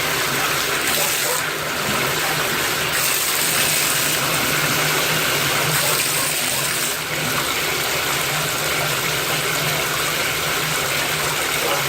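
Water from a newly installed Delta faucet runs steadily in a constant, loud rushing hiss that lasts throughout with little change.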